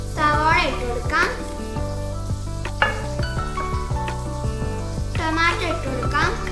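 Onions sizzle in a pan while frying for a fish mandi, a steady hiss under a voice speaking Malayalam, with occasional utensil clinks against the pan.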